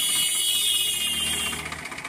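A 2012 Massey Ferguson 1035 DI tractor engine runs steadily nearby, a loud continuous mechanical drone with rattling texture that eases slightly toward the end, with no talk.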